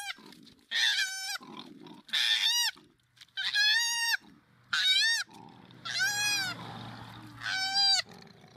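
A koala vocalizes in about six loud, nasal, pig-like honking bursts, each roughly half a second to a second long and separated by quieter snorting breaths, close and steady in rhythm.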